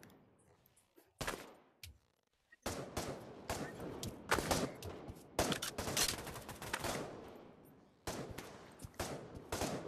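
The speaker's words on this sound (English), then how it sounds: "he just said my favorite gun's the AK" AK rifle fire in the Pavlov VR video game: repeated loud automatic bursts and rapid volleys, separated by brief quiet gaps early on, then nearly continuous shooting.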